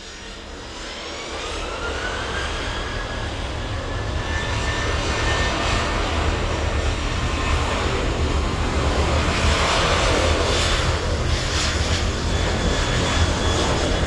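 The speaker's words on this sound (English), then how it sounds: "Departure of that Ryanair service to Valencia" A Ryanair Boeing 737 bound for Valencia departs from the runway at East Midlands Airport, its jet engines building from a rising whine to a loud, sustained roar that holds steady as it accelerates, with no talk.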